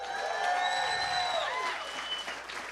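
A comedy club audience at a stand-up show breaks into a steady round of applause and some cheering, filling the room evenly before slowly tapering off.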